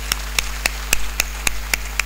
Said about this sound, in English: And this clap has to go for you.